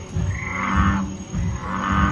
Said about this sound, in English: The bullfrog. Bullfrog.